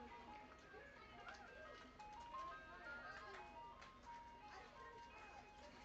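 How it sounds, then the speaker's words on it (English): An ice cream truck's tinny looping chime melody plays from a short distance at a women's softball game, steady under a faint outdoor murmur. "The ice cream truck is here."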